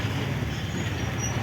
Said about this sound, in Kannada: ಕೆಳಗೆ ಮೆಟ್ರೋ ಅದ.